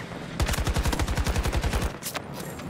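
Rapid pistol gunfire in the video game Battlefield, a fast run of loud, evenly spaced shots lasting over a second, followed by a couple of sharper isolated bursts.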